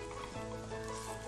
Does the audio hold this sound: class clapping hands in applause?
no